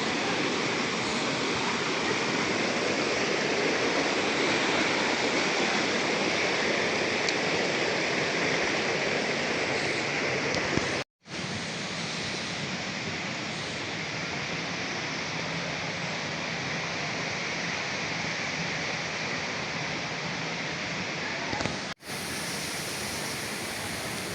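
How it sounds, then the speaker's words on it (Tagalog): Antong Falls, a waterfall in the Philippines, pours with a dense, steady roar of rushing water heard up close and loud, unbroken apart from two brief cuts, with no voices over it. "We're here at Antong Falls."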